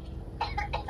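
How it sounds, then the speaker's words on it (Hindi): Several short, fake coughs in quick succession, close by, with low background rumble beneath. "झूठ मूठ की खांसी दिखा रहे हैं"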